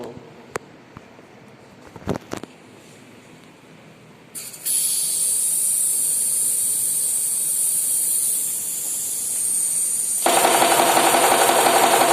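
Pneumatic cylinder on an electro-pneumatic trainer kit actuated by compressed air: a few sharp clicks, then a loud sustained hiss of escaping air that steps up and becomes harsher toward the end.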